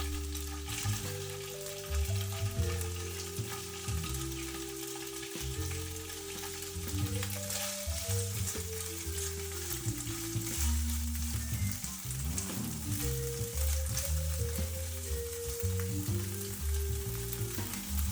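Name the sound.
ham and onion frying in a pan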